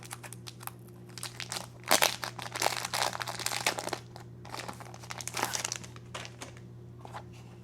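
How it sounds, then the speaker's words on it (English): Plastic and paper packaging around a Hobonichi 2026 planner crinkles and crunches as it is unwrapped, in bursts of close, bright rustling over a steady low hum. "let me unbox this"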